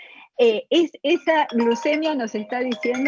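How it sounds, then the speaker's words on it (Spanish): A mobile phone's ringtone plays a melodic tone pattern during a medical lecture on diabetes, sounding clearly alongside the lecturer's voice as he keeps talking. "perdón, ese es mi teléfono"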